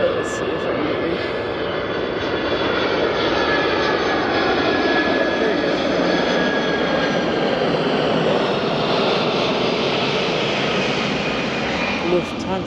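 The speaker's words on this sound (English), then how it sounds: "this looks like an A380 or no, Cargo 747" Cargo Boeing 747 flying over Castle Island on Boston Harbor, a broad steady jet roar with a faint whine on top, holding at a constant level for the whole span.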